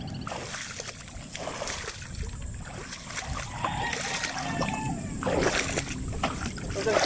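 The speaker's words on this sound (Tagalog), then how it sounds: "Hirap maglakad sa tubig. Putik pa." Someone wades through muddy water while fishing, feet sloshing and splashing in irregular heavy steps close by, the splashes growing louder toward the end.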